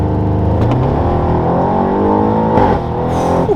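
Tuned 750 hp Audi RS7 accelerating hard with three people aboard, its engine roar rising steadily in pitch as it pulls through the gears, close and loud inside the cabin, with a brief pop near the end.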